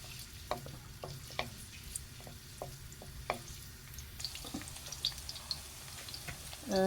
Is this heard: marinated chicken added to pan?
yes